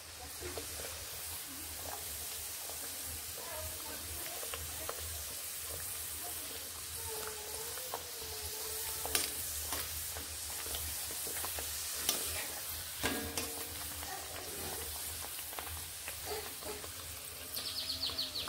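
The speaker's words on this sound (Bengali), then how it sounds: "খুব সুন্দরভাবে এগুলো ভাজা হচ্ছে।" Dal puri fry in hot oil with a soft, continuous sizzle and occasional stirring clinks, fairly quiet and without talk.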